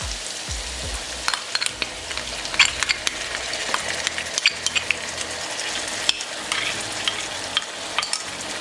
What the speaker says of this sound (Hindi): इसमें दही ऐड करेंगे और दही का पानी खुश्क होने तक इसे पका लेंगे